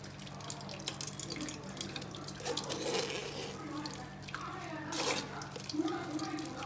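Tap water runs into a blender being rinsed out after blending leaves, a steady faint splash with a few louder gushes and rattles as it is swirled.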